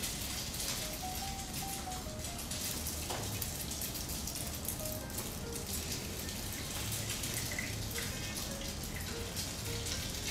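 Bread soaked in milk and egg fries in a pan, a continuous crackling sizzle with popping spatters that holds steady throughout, with faint tonal background sounds and no clear talk.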